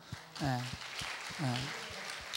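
A congregation at a military church service claps for a soldier going on leave. Steady, moderate applause fills the room while voices call out over it.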